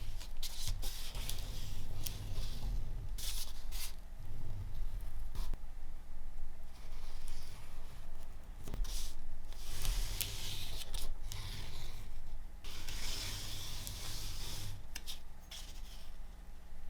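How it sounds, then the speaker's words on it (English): Scratch awl tracing around the outline of a leather piece for a sleeve, giving a steady close scratchy rasp with scattered dry rustles and clicks, continuous throughout and alone without talk. "you're gonna take your scratch awl and you're gonna trace around the outside"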